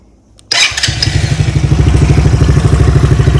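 A Tao Tao 110 quad ATV engine fresh from a carburetor replacement cranks and catches after a half-second of quiet, then settles into a loud, steady, rhythmic idle putter close by.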